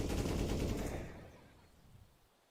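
Counter-Strike gunfire from a pro match between NAVI and Astralis comes as a quick burst of rapid shots that fades into a short echoing tail.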